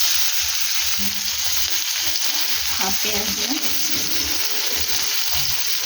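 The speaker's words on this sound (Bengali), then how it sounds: "তো পেঁয়াজটা ভেজে ফিরছি" Onion frying and sizzling in a pan as the base for a Bata fish curry, a steady loud hiss throughout with faint stirring and scraping, no talk.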